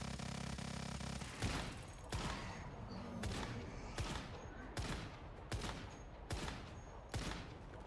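Gunfire in the video game Once Human aimed at a monster's arm: a rhythm of loud, sharp shots roughly once per second, each with a short tail, over a steady game background.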